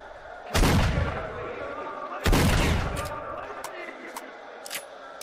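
Two loud, booming shotgun blasts from the STALKER game, about two seconds apart, each with a long decaying tail, followed by fainter clicks and clatter.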